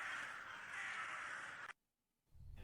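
Crows caw loudly in The Last Door, a dense harsh run of calls that cuts off abruptly into near silence before a low rumble returns.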